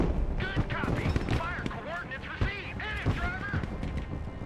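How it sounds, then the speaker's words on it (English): Artillery bombardment in the Broken Arrow war game: repeated heavy blasts and crackling fire overlap in quick bursts, with a voice talking underneath. "We're getting bombarded"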